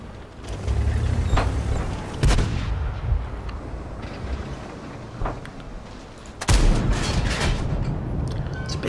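A big tank gun firing in a video game, heavy booming blasts with long rumbling tails, several loud shots spaced apart over a continuous low battle rumble.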